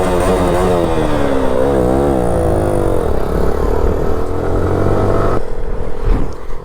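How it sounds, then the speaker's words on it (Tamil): A motorcycle engine revs loudly and close by, its pitch climbing and dipping in repeated surges before dropping to a rougher idle near the end, with no voices over it. "தானா ரேவ் ஆகுதுங்க."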